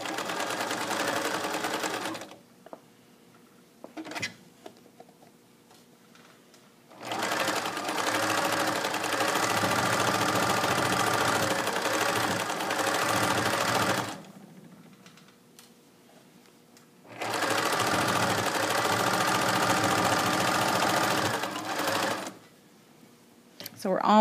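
A sewing machine stitches a waistband casing on a garment laid flat over the machine arm, in three long, steady runs of rapid mechanical whirring separated by quiet pauses, up close and loud.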